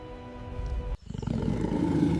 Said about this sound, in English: He lets out a roar that can be heard for miles, a reminder of his own power.